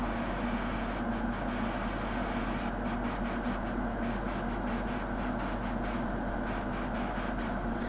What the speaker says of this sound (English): Okay, so I'm going to airbrush the face.